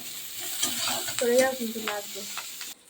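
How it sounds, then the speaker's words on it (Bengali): Onion and chili frying in oil in a wok, a short bright sizzle with stirring scrapes and rising bubbling crackle, then an abrupt stop. "দিয়ে দিচ্ছে কড়াইতে পেঁয়াজ লঙ্কা আর দিয়ে দিল তেল"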